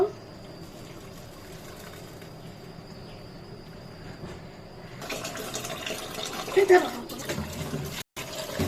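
Boiled sago pearls rinsed under running water while cooking firni, a steady watery splash that grows louder and busier partway through, with a brief break near the end.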